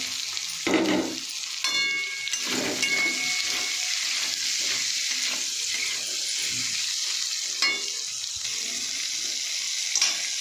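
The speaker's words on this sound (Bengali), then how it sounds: "এই তেলের মধ্যে একটু ভাজা ভাজা করে নেব।" Crackling sizzle of soya chunks frying in oil, broken by periodic stirring scrapes and a few louder bursts.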